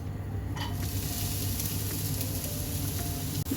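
Two medium chopped onions frying in oil for beef cutlets, a dense continuous sizzle with stirring scrapes, close and steady, with a brief clink near the end and no speech.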